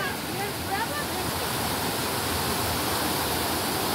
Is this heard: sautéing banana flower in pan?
no